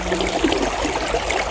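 Stream water flowing beside a hiking trail: a steady, close rush of running water filling the whole clip without a break.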